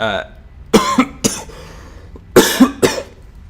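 Two pairs of sharp, forceful coughs, close and loud, separated by a short pause with faint background noise.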